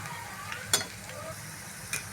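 Spinach and onion pakodi frying in hot oil give a steady soft sizzle with faint crackles and a couple of sharper pops, close up with no talking.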